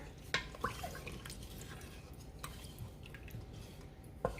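Undrained canned diced tomatoes being stirred in an Instant Pot, giving faint wet squishes and a few soft clicks of the spoon against the pot over quiet background noise.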